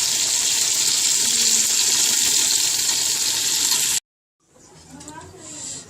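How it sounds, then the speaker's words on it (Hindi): Capsicum hits a pan of frying yogurt masala with chicken, giving a loud, steady sizzle that cuts off abruptly, then returns more softly with some stirring. "अब इसके अंदर हम शिमला मिर्च डालेंगे।"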